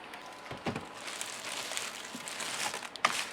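A plastic bag around a power station crinkles and rustles in soft, irregular bursts close by, with a sharper crackle near the end and no speech.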